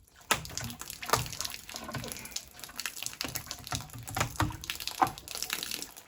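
Water rushes and splashes from a freshly cleared drain blockage, with irregular gushing bursts and sharp spatters close by, steady and fairly loud throughout with no talk.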